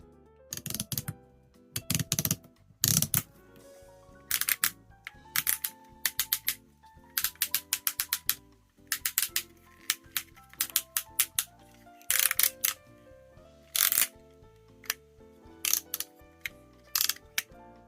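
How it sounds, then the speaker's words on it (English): Ratchet joints on a Metal Cardbot Buster Galleon toy figure being moved, producing close bursts of sharp rapid plastic clicks separated by short pauses, with no talking. "now let's take a listen to those wonderful ratchets in the figure"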